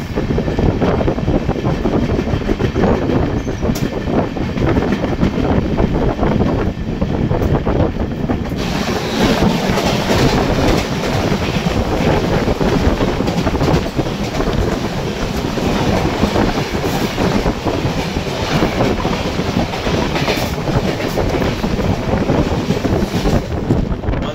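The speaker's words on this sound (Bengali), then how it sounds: "আর সামনে আসছে নিউ দিল্লি শিয়ালদা রাজধানী এক্সপ্রেস।" The New Delhi–Sealdah Rajdhani Express rushes past at close range, a loud, continuous rumble and rattle of wheels and carriages with wind buffeting the microphone, sustained for the whole passage.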